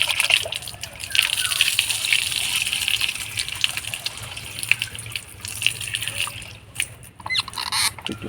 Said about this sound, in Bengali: এখন দেখছেন এই লিচুগুলিকে আমি আস্ত ভালো করে ধুয়ে নিচ্ছি